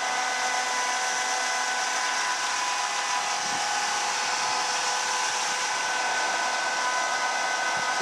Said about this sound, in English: The machine will begin by adding 1 quart of fluid into the vehicle